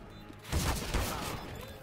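Rapid gunfire in the video game Counter-Strike, a dense burst of shots over about a second and a half, moderately loud in a team match.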